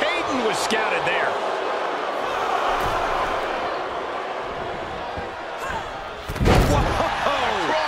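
A wrestler's cross body lands in a WWE Raw tag-team match, a loud thudding slam near the end over a roaring arena crowd, with an excited commentator's voice.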